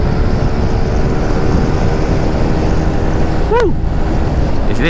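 A motorcycle rides along a road between Purwakarta and Subang via Cipendeuy and Kalijati, a loud steady engine drone with wind rush, and a brief passing tonal sweep near the end.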